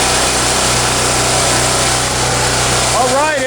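A Champion portable generator engine catches after a choked pull and runs at a steady, loud, close drone, with a brief rising whine near the end.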